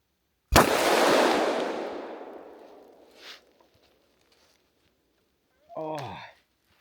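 A single sharp rifle gunshot from a rifle with an EOTech sight in freezing cold weather, loud and close, with a long decaying echo, then a brief voice afterward.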